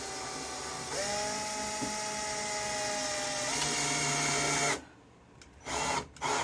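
A power drill whines as it drives screws into a drywall patch, its close motor pitch shifting and rising over a few seconds, then cutting off and giving two short final bursts.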